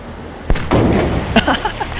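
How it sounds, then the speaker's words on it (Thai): Video game gunfire into water: a sharp shot, then a heavy booming blast followed by splashy rumbling and a few smaller pops, loud and close. "ผมชอบเสียงเวลายิงปืนลงน้ำมากเลย"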